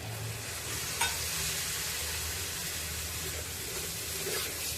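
Pigeon peas sautéing with spices in a pan over a medium flame, giving a steady broadband sizzle with occasional faint stirring scrapes and no voices.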